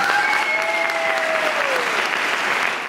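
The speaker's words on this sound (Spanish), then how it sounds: "Un aplauso para él." Sustained audience applause at a music awards ceremony, greeting a virtuoso guitarist before he performs; dense, steady clapping from a large crowd lasting the whole stretch, with a faint tonal whistle-like sound riding above it.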